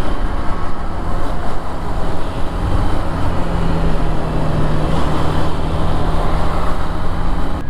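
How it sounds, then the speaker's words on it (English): A 2021 Hero Xtreme 160R motorcycle rides through dense city traffic, its engine a steady loud drone mixed with wind rush and surrounding vehicle noise throughout. "And as you can see, I can easily filter through this traffic."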